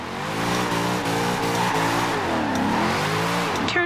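Race cars starting a race in a video game, a loud continuous engine roar with rising and falling revs as gears shift, tires squealing toward the end, no talk.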